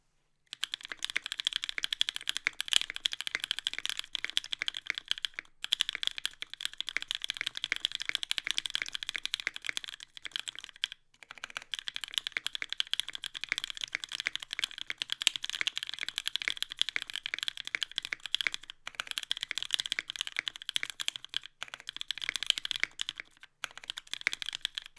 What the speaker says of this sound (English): Just take a listen to what these switches sound like.